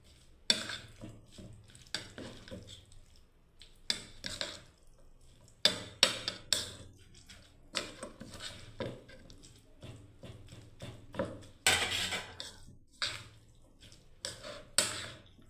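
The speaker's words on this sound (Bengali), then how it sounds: "2টো চামচ দিয়ে ভালোভাবে ঘেটে নিচ্ছি বন্ধুরা" Restaurant-style salad tossed with two spoons gives soft, irregular clicks and wet rustles, close and fairly quiet, in scattered bursts over a quiet background.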